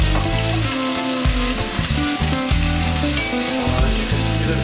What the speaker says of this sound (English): You want to get a nice sear on the one side before we flip it and put it into the oven.